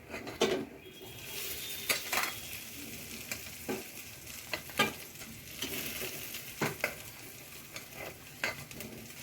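Rice stirred through hot ghee in a pan for cashew rice, with a soft steady sizzle under irregular scraping strokes and occasional spoon knocks against the metal.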